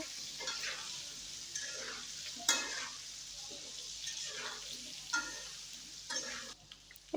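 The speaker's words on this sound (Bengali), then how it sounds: "একটু হলুদের গুঁড়া একটু লবণ দিয়ে আলুটা ভালোভাবে ভেজে নিচ্ছি" Potato pieces fry in hot oil with turmeric powder and salt for a fish and cauliflower curry. A continuous hissing sizzle runs throughout, broken by regular bursts of a utensil scraping and tossing them, close and alone.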